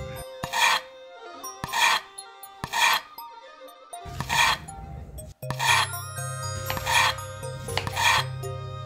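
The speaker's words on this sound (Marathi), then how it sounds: "आता आपण याला चांगले असे कापून घेऊ।" Raw peeled bananas sliced with a knife, giving a series of about seven crisp rasping cuts at a steady rhythm, each one short and close, with no talking.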